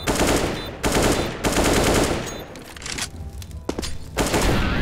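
Dense automatic gunfire from Counter-Strike: Global Offensive, long loud bursts of rapid shots with short gaps between them, close and continuous throughout.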